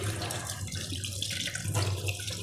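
Soaked rice and urad dal being rinsed in a sink under a running faucet for idli batter, a steady splashing water stream close by throughout, with no talking.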